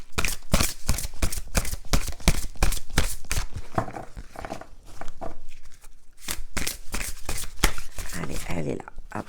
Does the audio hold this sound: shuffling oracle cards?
yes